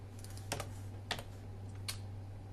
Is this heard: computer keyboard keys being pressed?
yes